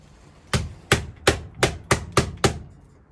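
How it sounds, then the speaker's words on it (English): Seven sharp, loud metallic taps in an even rhythm as a drill is used as a hammer on a camper, each ringing briefly before the next strike, close by with no talking. "I'm using my drill as a hammer."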